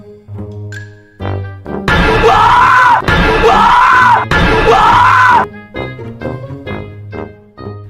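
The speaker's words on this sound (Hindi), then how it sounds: "दरवाजे के पीछे से बुल्ली बहुत ही ज़ोर से चीख मार देता है" Cartoon prank: three long, loud, shrill screams burst from behind a door one after another, framed by brief tonal sound effects and short voiced noises before and after.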